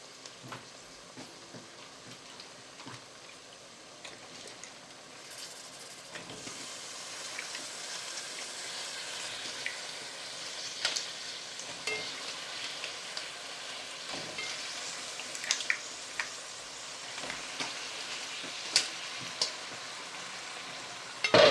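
Big tiger fish frying in hot oil in a pan, a steady bright sizzle and hiss that builds slightly louder over time, with scattered crackles and pops, close and continuous with no talk.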